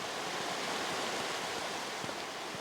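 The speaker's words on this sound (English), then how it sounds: "Getting a little closer to the river and it feels really, really loud." A river rushes loudly close by, a dense, steady roar of flowing water that holds constant throughout with no pauses or voices.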